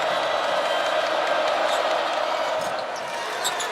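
Steady murmur of a college basketball arena crowd during a free throw at a Kansas versus Missouri NCAA men's game, a dense, even wash of voices with faint scattered calls, continuous throughout.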